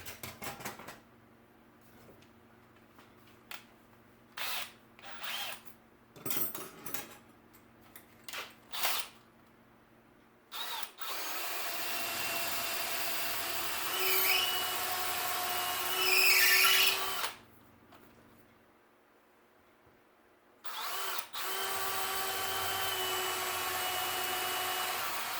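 A power drill enlarges a hole to 9/64 inch through a gun part to clear a 1/8-inch pin, first in several short bursts, then in two sustained, loud whining runs close by.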